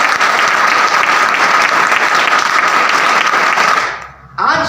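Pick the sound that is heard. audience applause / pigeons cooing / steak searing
audience applause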